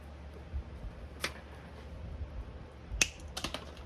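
Two sharp snips as side cutters clip the wire leads of a 24V transformer short, one near 1.2 seconds and a louder one near 3 seconds, followed by small ticking clatter as cut pieces fly off, over a low steady hum.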